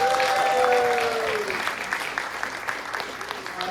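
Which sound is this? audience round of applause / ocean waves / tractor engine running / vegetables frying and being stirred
audience round of applause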